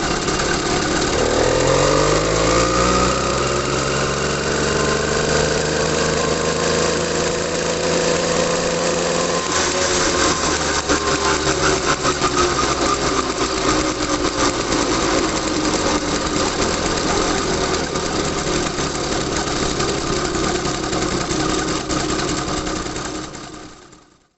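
80cc two-stroke motorized bicycle engine with a Bofang carburetor running hard on a dyno, a loud buzzing drone that rises in pitch through the run and holds steady at high revs, with a cooling fan roaring along and no talk.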